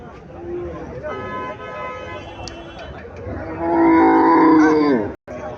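A Jersey cow at a busy cattle market lets out one long, loud moo near the end, over a steady crowd murmur and people talking nearby.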